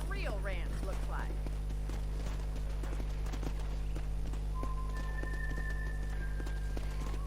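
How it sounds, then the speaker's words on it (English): Horse hooves clip-clopping while riding in the video game Red Dead Redemption, a steady run of hoof beats under constant game music and ambience, with voices talking over it. "let's see if you can still ride a horse"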